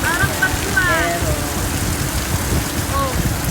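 Heavy rain pouring down, a loud, dense and steady hiss of water drumming on surfaces that lasts throughout, with faint chirping sounds briefly rising above it.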